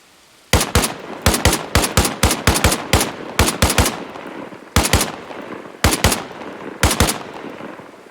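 Rapid bursts of automatic gunfire in Arma Reforger, loud and close, fired in short volleys of several shots with brief pauses between them, with no talk over it.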